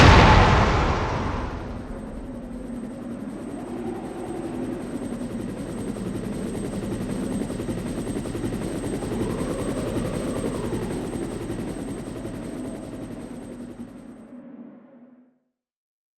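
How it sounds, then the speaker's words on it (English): In the video game Resident Evil 1, a helicopter flies with a steady, loud rotor thrum that follows a heavy burst at the start, holds for several seconds, then fades quickly into silence. "The helicopter flies away and the mansion explodes."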